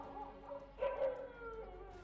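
Dogs howl and whimper at night in the cremation ground of Ujjain, a wavering drawn-out tone rising briefly louder in the middle, moderately distant over a steady low background hum.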